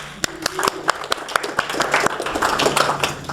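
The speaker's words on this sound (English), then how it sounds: "Another round of applause for Candy." An audience gives Candy a round of applause, a steady patter of many hands that goes on without pause, with a few sharper, louder claps standing out near the listener.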